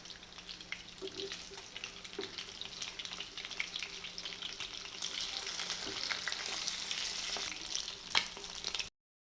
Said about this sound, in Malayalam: നമ്മളെപ്പോഴും ഫ്രൈ ചെയ്യുമ്പോൾ മീഡിയം ഫ്ലെയിമിലിട്ട് ഫ്രൈ ചെയ്യുള്ളൂ